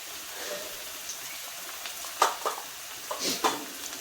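Onion with turmeric and asafoetida sautéing in a pan for poha, a faint steady sizzle broken by a few brief clinks and scrapes of stirring.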